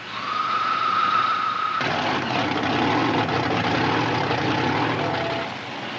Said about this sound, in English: These are pretty much a thoroughbred racing engine.